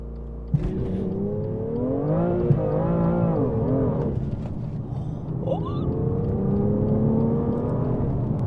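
A BMW M2 accelerates hard in Sport Plus mode on a damp road. A sharp start gives way to a loud, rising engine note that climbs through the gears, with each shift dropping the pitch before it surges again, steady and close.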